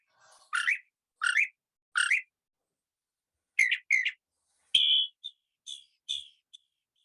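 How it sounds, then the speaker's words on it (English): Recorded mockingbird song played back: a series of short, bright chirping phrases in clusters with pauses between, fairly close and clear, with no talking. "So let me play the mocker, and this is a mocker."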